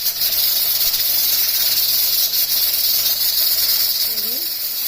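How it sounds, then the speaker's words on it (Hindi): Steam hissing steadily from a pressure cooker after cooking beef bong shorba, with the flame turned off; a continuous, fairly loud high hiss fills the whole stretch, with faint background sounds beneath it. "इसमें से स्टीम को निकलने देना है"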